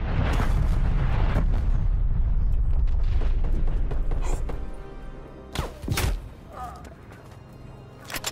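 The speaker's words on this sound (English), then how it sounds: "Artillery inbound." Artillery strike explosions in Call of Duty: Black Ops Cold War: a heavy, continuous rumbling barrage fills the first half, then fades into a few separate booming impacts and thuds, with faint radio-style chatter underneath.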